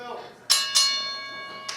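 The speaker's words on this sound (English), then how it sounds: "Whenever you guys are ready, ring the bell." A wrestling ring bell clangs twice in quick succession with long ringing decay, then gives a softer third strike near the end, close and loud, with no talk over it.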